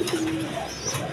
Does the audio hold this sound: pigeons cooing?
yes